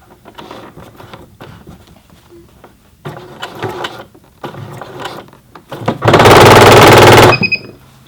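A Singer Heavy Duty 6800C sewing machine stitches through a thick hem in short mechanical bursts with pauses between them, ending in one loud, fast continuous run of stitching followed by a brief high whine.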